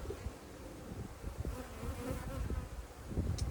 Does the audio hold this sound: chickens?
no